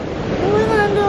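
Sea waves wash onto the shore at Kobuleti as a loud, close, rushing surf with wind noise on the microphone, while a voice speaks over it.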